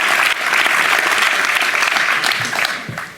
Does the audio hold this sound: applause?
yes